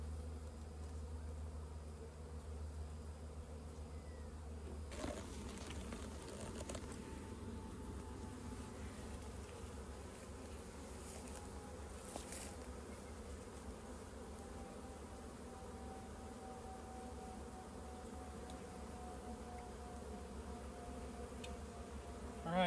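Honey bees buzzing around a foam cooler outdoors, a continuous low hum of many insects that stays faint and steady, with occasional louder passes as individual bees fly close.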